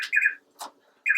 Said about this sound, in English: Your favorite bird, Janet.